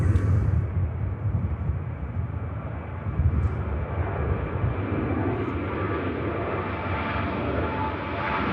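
A Saudia airliner at Manchester Airport produces a continuous broad engine roar, steady and fairly close, holding at an even loudness with no pauses.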